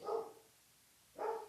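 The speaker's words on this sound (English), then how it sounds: "he's barking out the back window" A dog barks out a back window indoors: two separate barks about a second apart, faint and somewhat distant with quiet between them.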